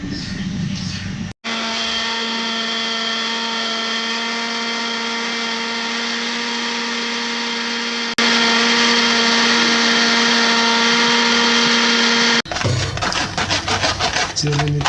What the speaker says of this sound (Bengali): আমরা ব্লেন্ড করার জন্য ব্লেন্ডারে রাখবো এবং ব্লেন্ড করবো